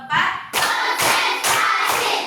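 A school class claps hands together in counted claps, four sharp bursts of clapping in a steady rhythm, close and loud.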